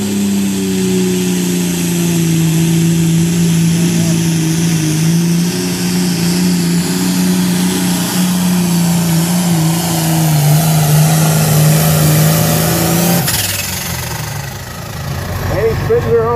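International 1206 tractor roaring under load at a tractor pull, a loud sustained engine drone that holds steady for about thirteen seconds before cutting away, with an announcer talking over it.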